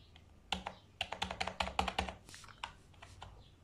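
Computer keyboard keys pressed in a quick burst of crisp clicks, about a dozen close taps in rapid rhythm, then a few slower scattered presses, with no voices.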